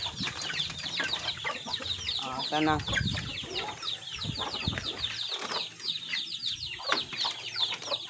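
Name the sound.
pet chickens clucking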